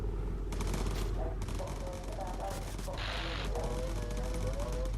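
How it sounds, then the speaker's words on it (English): Machine-gun fire strikes a bomber in the game Bomber Crew, with dense crackling bursts coming in close waves over a constant low drone and some talk mixed in. "Ship is taking fire."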